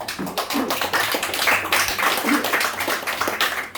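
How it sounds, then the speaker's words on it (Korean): A seminar audience gives a round of clapping: brisk, fairly loud and sustained, with sharp individual claps standing out against the room, and a voice or two comes through beneath it. "이 박수 한번 쳐주십시오"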